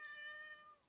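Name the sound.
cat meowing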